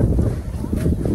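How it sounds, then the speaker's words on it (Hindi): Wind blowing through the snowy mountains at Sissu near Manali, Himachal Pradesh, during heavy snowfall: a steady, close broadband rush with gusty swells and faint voices underneath. "हवा चल रही है इधर ऊपर से।"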